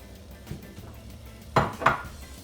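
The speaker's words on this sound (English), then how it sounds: "Add in my vegetables. So I'm just gonna start out with my onions" Onions are tipped into a cooking pan for a shepherd's pie filling, giving a few soft knocks and then two louder clattering thuds near the end, close by with no one talking.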